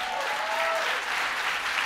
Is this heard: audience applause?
yes